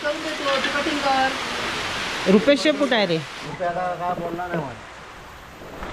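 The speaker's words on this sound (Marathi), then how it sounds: "पाऊस आलेला आहे शेवटी" Steady rain falls outdoors, a continuous broadband hiss that runs the whole time beneath a group of men chatting nearby.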